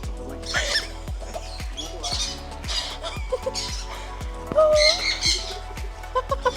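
Birds squawk repeatedly at a hand-feeding aviary visited as a tourist spot, harsh calls overlapping close by over a steady rhythmic background pulse, with a brief shrill cry near the middle.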